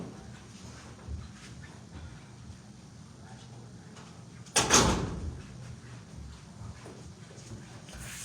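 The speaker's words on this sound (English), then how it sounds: "let me close this door" An indoor door is pushed shut with one fairly loud thump and rattle midway through, set against a quiet room with faint background noise.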